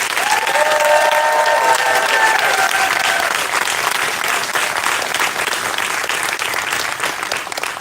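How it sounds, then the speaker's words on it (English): Audience applauding award recipients at a university hooding ceremony, loud sustained clapping across the whole stretch, with a brief tonal ringing sound early on beneath it. "Please give one more round of applause for all of our award recipients."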